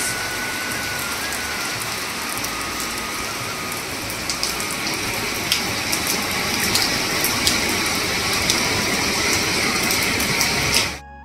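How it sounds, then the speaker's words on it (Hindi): Steady rain falling on surfaces, a continuous close hiss with scattered drop ticks, constant throughout before cutting off abruptly. "बारिश रुकने का नाम नहीं ले रही है बिल्कुल भी ये देखिए बारिश"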